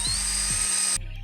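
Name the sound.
drill drilling holes while building a DIY 3D printer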